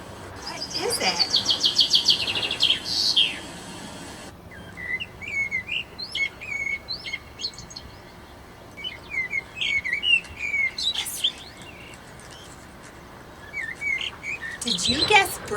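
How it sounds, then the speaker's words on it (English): A small bird chirps and sings in bursts of quick, high tweets separated by short pauses, fairly close against a quiet background. "If you guessed bird, you're right."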